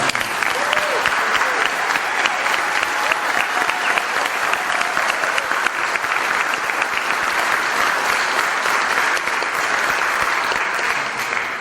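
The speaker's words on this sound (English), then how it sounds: "please a round of applause for that" A crowd at a community event on a Turlock university campus breaks into loud, sustained applause, dense and even for the whole stretch, with some crowd noise mixed in.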